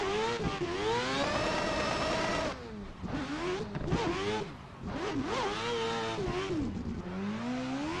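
Adam LZ's four-rotor Toyota A90 Supra screaming along a mountain touge road, a loud, harsh rotary howl that climbs through gears, dips briefly on a shift or lift, then rises again, close and continuous for eight seconds.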